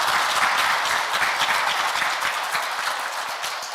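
A lecture audience claps in steady, dense applause at a Korean morning talk on AI-era survival, a broad wash of many hands sustained at even loudness with no voices over it.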